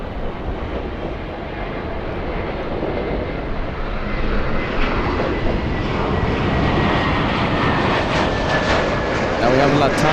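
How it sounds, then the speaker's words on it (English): An ITA Airways A350 jet arriving at Los Angeles International produces a steady broad engine rumble that builds slowly, with a person talking over it near the end. "Mike, one of your favorites arriving soon. It's the ITA A350."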